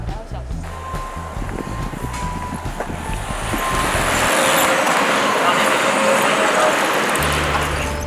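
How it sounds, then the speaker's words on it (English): A city bus rolls along near a Chinese university with a low engine rumble and road noise that swells into a broad, steady whoosh, the engine drone returning near the end. "This bus is so comfortable, it's so cheap, only 2 yuan, 2 renminbi"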